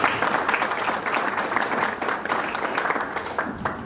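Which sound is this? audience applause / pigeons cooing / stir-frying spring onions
audience applause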